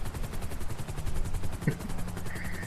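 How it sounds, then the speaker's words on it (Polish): Continuous rhythmic thumping of a video game medical helicopter's rotors chops steadily throughout, with one sharp knock partway through. "Jestem w helikopterze medycznym."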